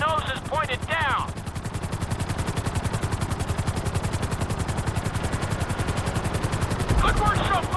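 A helicopter in Grand Theft Auto V whirs with a loud, fast, even rotor chop that runs the whole time, and a voice speaks briefly at the start and end.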